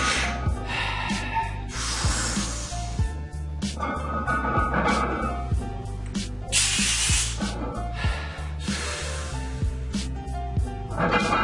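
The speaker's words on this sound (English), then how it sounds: "there you can get a sense of my breathing" Heavy, forceful bracing breaths before a barbell squat, a series of loud sharp inhales and hissing exhales repeating every couple of seconds over a background of gym music.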